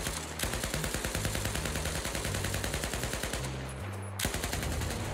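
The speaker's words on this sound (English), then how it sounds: "the gun sounds themselves are just S tier" Rapid automatic gunfire from the Battlefield video game rattles in a dense, steady stream with a low musical bed beneath, briefly dropping out near the end before firing resumes.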